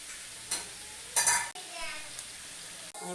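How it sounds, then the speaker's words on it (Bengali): Chicken pieces sizzle as they are stirred and sautéed in spice masala with a splash of water, with a few louder scrapes of a utensil against the pan over a steady frying hiss. "মাংসটাকে আমরা জল দিয়ে হালকা কষিয়ে নিচ্ছি"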